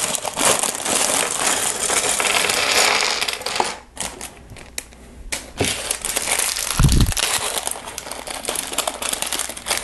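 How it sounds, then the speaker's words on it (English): Lego Technic pieces from a Record Breaker set #42033 dumped out, a dense continuous clatter and rattle of small plastic parts pouring and shifting, loud and close, easing briefly before resuming. "So go ahead and dump all these out."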